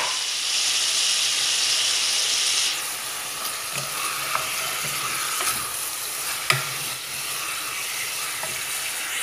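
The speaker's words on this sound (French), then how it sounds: "Je vais ajouter le poivre noir, le poivron vert," Black pepper and chopped green pepper are stirred into a simmering veal and potato stew, a loud hiss and sizzle that quiets after a few seconds into soft bubbling with scattered spoon clinks and scrapes.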